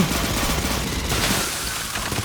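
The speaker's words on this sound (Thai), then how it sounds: "ทำไมปืนผมยิงเป็นระเบิดวะ" Rapid bursts of gunfire in the video game Aliens: Fireteam Elite crackle continuously, dense and loud, with no pauses between shots.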